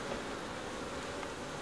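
Honey bees buzz in a steady, dense drone around an opened beehive during a brood and swarm inspection, faint but continuous.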